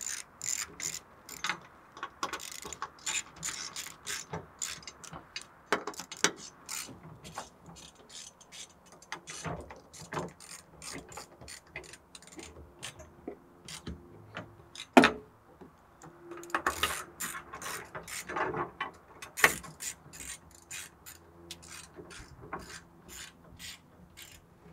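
A ratchet tightens the fittings of a car camera rig, producing irregular bursts of close mechanical clicking with pauses and occasional louder clacks, quiet overall.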